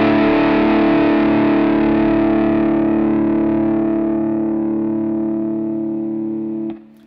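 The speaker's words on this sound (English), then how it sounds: "When I go ahead and ring out a chord" A single electric guitar chord through a Keeley Aria overdrive and compressor pedal rings out loud and sustains for several seconds, slowly fading before being cut off abruptly.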